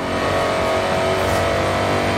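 An Opel Calibra engine in the racing game Forza Horizon 5 revs hard under load, a loud, steady, unbroken drone with no voices over it.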